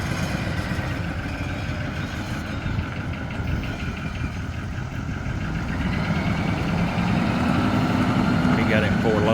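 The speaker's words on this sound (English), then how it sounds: "You hear the gear whine like my motor had." A truck engine runs with a gear whine, a rough mid-pitched rumble with a thin whining tone threaded through it, steady and close, swelling slightly toward the end under muffled voices.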